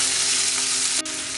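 Chopped onion and green chili frying in a pan with whole spices, a close, steady, hissing sizzle with a brief dip near the end, no voices.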